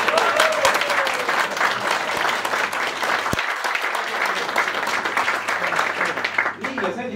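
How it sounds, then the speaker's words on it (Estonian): A large audience applauds steadily at a public television show recording in Võru, Estonia. The dense, sustained clapping fills the whole stretch, with a voice faintly audible beneath it. "kohe endale üks aplaus ka"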